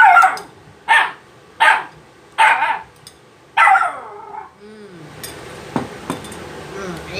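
A dog barks five times in a loose, evenly spaced series, loud and close, followed by quieter clinking of dishes and household noise in a kitchen.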